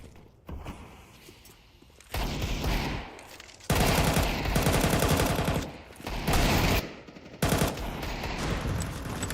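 Rapid gunfire erupts in bursts during a competitive first-person shooter esports playoff match, with loud sustained automatic fire interrupted by short gaps and shifting intensity.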